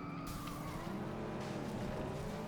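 A car in the FlatOut Ultimate Carnage derby video game slams into an opponent: a loud, steady engine roar with squealing tires and a brief impact burst near the start.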